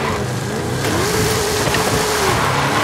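A 1975 Ford Bronco engine revs steadily in second gear during a wheelie attempt, a loud, continuous mid-pitched roar with a rising whine that holds for about three seconds, with no talk over it.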